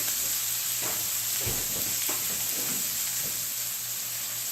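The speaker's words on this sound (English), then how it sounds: "I'm going to fry up some onions and a little bit of garlic" Onions and garlic frying in olive oil and butter for Philly cheesesteak sandwiches, giving a steady, close sizzle with occasional soft stirring scrapes and no voices.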